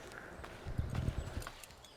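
Horse hooves clip-clopping at a walking pace in Assassin's Creed 3, a man's horse beside his wagon, a run of soft, muffled steps at moderate distance over a low ambient background.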